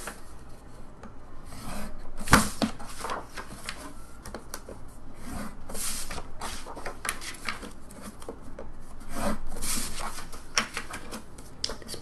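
Photo paper scored along straight score lines for a folio craft project, a series of close scratchy tool strokes and paper rubbing, uneven in rhythm with occasional sharper taps, and no talking.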